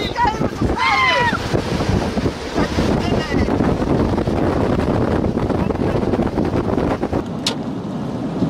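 Wind roars around a very large tornado in northwest Texas, a loud, continuous buffeting rush against the microphone, with excited voices calling out briefly near the start.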